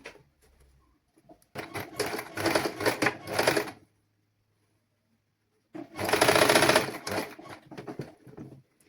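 Tailoring sewing machine stitching a pleated frock, running in two close, loud bursts of rapid stitching, about two seconds and then a second shorter burst, separated by a quiet pause.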